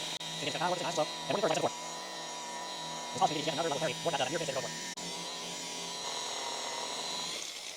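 A polisher works lacquer paint at speed setting 1400, giving a steady, moderately loud whir that runs throughout while someone talks over it.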